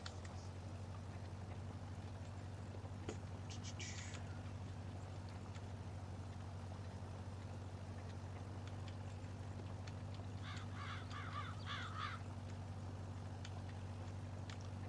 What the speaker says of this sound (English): Dang crows.